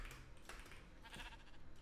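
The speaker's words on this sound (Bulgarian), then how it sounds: "Добре, овците си пасат." Sheep bleat in a video game, a couple of short, fairly faint calls over quiet background game sounds.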